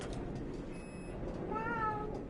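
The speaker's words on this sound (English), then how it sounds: "That's my mom's cat, no." A house cat belonging to someone's mother meows a couple of times, with a higher drawn-out call near the middle and a wavering meow toward the end, fairly close over a steady background hum.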